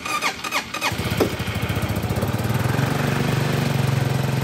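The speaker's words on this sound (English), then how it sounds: "This is being fired for the first time, by the way." A 2022 Freedom Storm-S 300 motorcycle cranks, catches on its first-ever start and settles into a steady, even idle close by, after a few clicks and knocks at the beginning.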